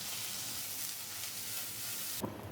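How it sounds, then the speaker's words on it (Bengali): Rohu fish belly pieces frying in hot oil give a steady, close sizzle throughout, with a brief louder crackle and stir near the end. "হয়ে গেছে মাছ ভাজা, দেখুন"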